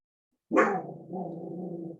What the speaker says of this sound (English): We adopted a dog 2 weeks ago, and she's, I think, hearing people walking or cats or something.